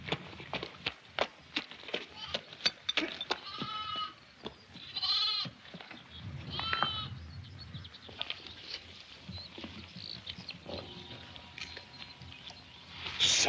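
Sheep bleat several times in a farmyard, with short wavering cries standing out among steady patter and shuffling of the flock, fairly close and moderately loud with no talk.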